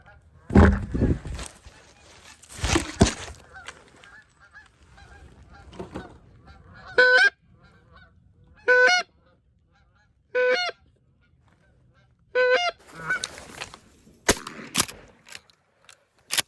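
Geese honking during a goose hunt, loud repeated bursts of calls in clusters, with occasional sharp knocks and bangs, close by in an open outdoor setting.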